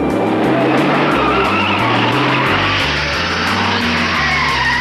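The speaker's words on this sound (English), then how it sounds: "Moffat accelerates the GTHO to something around 140 miles per hour down Conrod." Allan Moffat's Ford Falcon GTHO Phase 3 race car at Bathurst, accelerating to around 140 mph down Conrod Straight, with a loud, sustained engine roar stepping up in pitch through gear changes.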